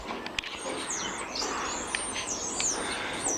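Garden birds sing and chirp around a nut feeder, several high, twittering calls overlapping against a constant outdoor hiss, moderately faint and without any voices.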